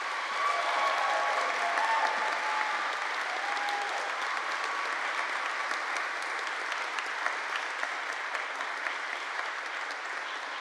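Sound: applause from the concert audience

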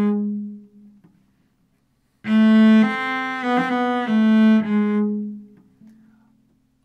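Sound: cello playing a mordent on the beat

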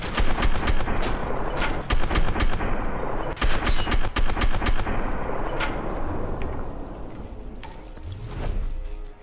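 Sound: gunfire from shooting enemies in video game Fear 3

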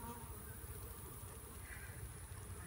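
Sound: honey bees buzzing during a nuc hive transfer

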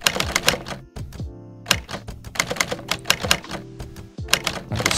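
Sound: retro typewriter typing sound effect from the Hanx app

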